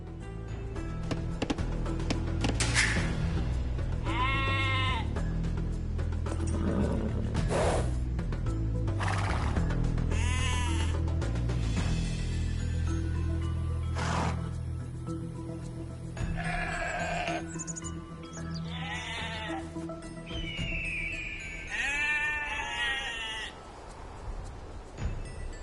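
Age of Empires II video game animal sounds: repeated sheep bleats mixed with horse whinnies and neighs over a low steady game soundtrack, each call short and distinct, spaced irregularly.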